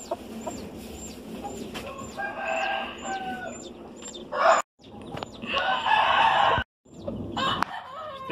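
A two-year-old Asil gamecock crows loudly nearby, a long drawn-out call, with clucking hens and other birds chirping in the background.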